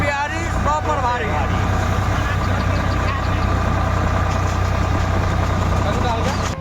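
A tractor engine idling in a steady, loud, low drone that runs throughout, with a voice briefly heard over it near the start.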